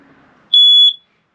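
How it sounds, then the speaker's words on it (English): A smoke detector in a small 2018 Airstream Base Camp travel trailer gives one loud, piercing electronic beep during a test, lasting about half a second, close and alone after a faint murmur. "First, for the smoke detector, really easy,"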